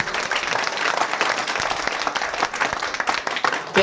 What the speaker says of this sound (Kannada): ಚಪ್ಪಾಳೆ ನೋಡಿ ಒಂದ್ ಸೌಂಡ್